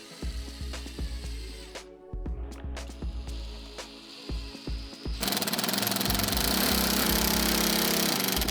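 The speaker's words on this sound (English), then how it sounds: "with another chunky Torx bit, we're driving the inner metal core into the fixing" A power driver with a chunky Torx bit drives the inner metal core into a plasterboard dot-and-dab fixing, first a stuttering burst of clicks and revving, then a loud, steady, grinding whir held for several seconds.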